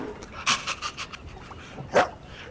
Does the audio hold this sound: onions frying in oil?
no